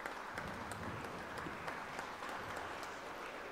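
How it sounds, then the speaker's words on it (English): An audience at a live event honouring the philosopher-saints Dnyaneshwar and Tukaram gives a sustained round of applause, a dense, even crowd clapping with faint voices mixed in. "Please give him a big round of applause,"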